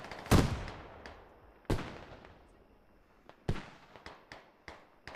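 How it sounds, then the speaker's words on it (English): Smoke mortar rounds landing in the game Squad, a few sharp booming impacts spaced a second or more apart, each trailing off, followed by several smaller distant cracks, fairly faint overall. "As you see those mortars coming in, I wonder, are those friendly or enemy? They are smoke mortars."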